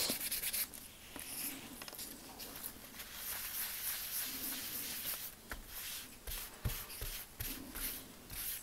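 Steady rubbing and wiping of ink off embossed printed paper, a continuous soft scratchy friction with small strokes and taps, faint and close, with no talk.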